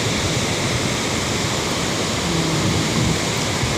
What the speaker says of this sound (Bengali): পাহাড়ের উপর থেকে বৃষ্টির পানি নামছে।